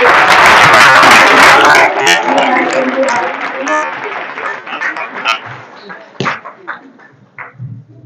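Loud applause from an audience greets Shri Dinesh Kapoor as he is welcomed onto the stage at a Veer Bhagat Singh Yuva Dal event, dense clapping for about two seconds, then thinning into scattered claps and murmurs.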